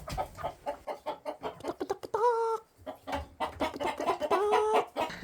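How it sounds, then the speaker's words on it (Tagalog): Several chickens cluck nearby in quick, choppy bursts, with a couple of longer, drawn-out squawks standing out. "may sampu palang manok dito"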